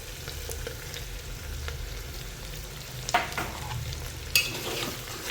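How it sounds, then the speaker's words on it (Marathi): Broken wheat (daliya) stir-fried in a pan for Maharashtrian daliya khichdi: a steady, soft sizzle runs throughout, with two sharp scrapes of the spoon against the pan near the end and no talking. "चांगलं परतून घ्यायचं आहे."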